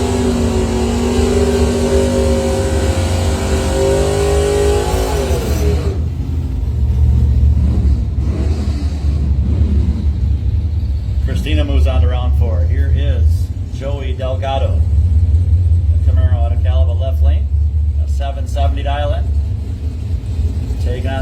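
Buick and AMC Spirit doorslammer drag cars launch at a test-and-tune session, a loud, sustained engine roar under a track announcer's continuous commentary, heard at a distance.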